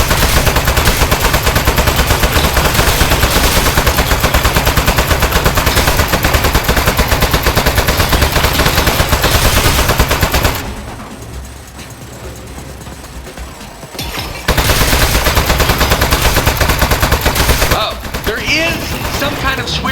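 Rapid automatic turret fire rattles loud and continuous inside the Aperture Desk Job video game, pausing briefly for a few seconds before the bursts resume.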